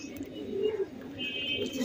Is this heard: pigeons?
yes